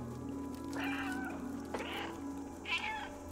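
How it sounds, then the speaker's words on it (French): Three separate cat meows from the playable cat in the video game Stray, spaced about a second apart, close and clear over a low steady game ambience. "Ok, on peut miauler."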